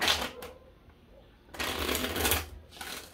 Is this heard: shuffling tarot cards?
yes